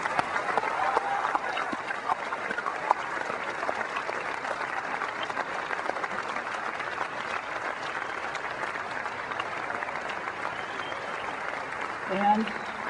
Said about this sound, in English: giving them a round of applause for bringing us these